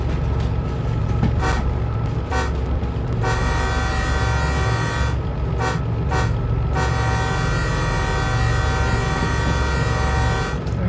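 A bus horn in the DV Sim driving game sounds in a series of loud, sustained honks, several short blasts followed by longer held tones, over a constant engine rumble.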